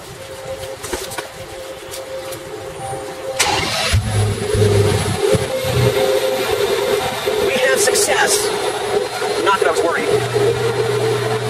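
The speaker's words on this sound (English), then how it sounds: "Now I can close the hood, start it up, allow it to reach normal operating temperatures." A car engine is started after the engine bay is cleaned and then keeps idling steadily, loud and close, with a person talking over it.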